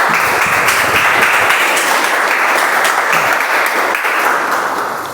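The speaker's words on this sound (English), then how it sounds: "with a big round of applause, I would love to welcome Toastmaster Arun" Loud, dense applause from a Toastmasters meeting audience welcoming a speaker, a full continuous roar of clapping that eases slightly as it closes.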